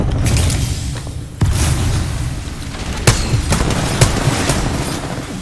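Rapid gunfire bursts and booming impacts from a video game firefight, loud and continuous, with sharp cracks standing out over a dense low rumble of shots and explosions.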